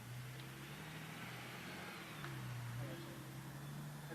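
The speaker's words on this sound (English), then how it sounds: "there was a car going by" A car driving past outside an apartment complex, a faint steady engine hum and tire whir from a distance, low and even throughout with no clear peak.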